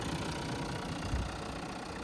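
A Renault Kangoo's 1.5 engine idles under an open hood, giving a steady, moderately loud low hum with no talk.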